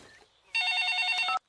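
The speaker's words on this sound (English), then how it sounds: "Daddy Pig's mobile phone is ringing." A cartoon mobile phone ringtone trills loudly in a steady electronic burst, starting abruptly after a quiet moment and cutting off cleanly about a second later.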